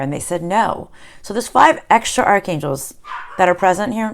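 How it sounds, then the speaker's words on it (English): A dog barks intermittently in the background, short yappy barks mixed under continuous close speech from a person talking. "Sorry about my dog."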